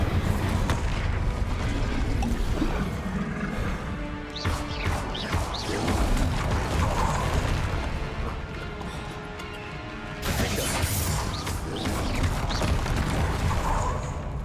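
Incendio fire spell cast repeatedly in Hogwarts Legacy during a fight with a troll: dense, roaring bursts and crashing booms fill the whole stretch, loud and continuous with brief pulsing swells.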